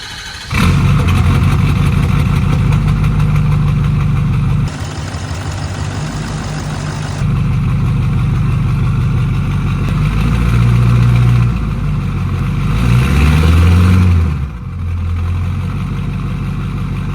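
A 6.7 Powerstroke diesel pickup with an S366 turbo swap cranks and fires, then runs loud and close with a rough diesel idle, revving up a few times before settling back.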